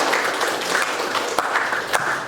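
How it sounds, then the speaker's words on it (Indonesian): Classmates in a school classroom clap their hands for a fellow student, a brief close burst of mixed, overlapping claps with a few sharper slaps standing out. "Berikan tepuk tangan temannya"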